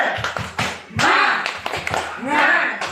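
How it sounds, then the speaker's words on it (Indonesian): Teachers performing a rhythmic spirit clap in a school gathering, crisp patterned claps in quick bursts, close and loud, mixed with chanted voices between and over the claps. "Tepuk semangat."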